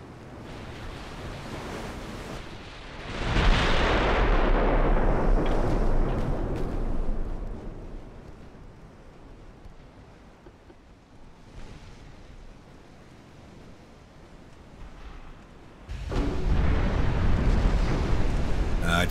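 Naval gunfire in the naval warfare game Ultimate Admiral: Dreadnoughts: two heavy roaring blasts, each a loud broad rush that slowly fades, with quieter ambient noise between them.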